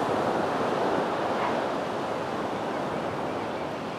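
Ocean waves wash steadily in The Sims 3, a broad, continuous surf roar that stays loud and even throughout with no talk over it.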